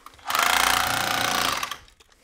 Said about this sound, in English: I'm just going to put my SDS drill on hammer only and drive this through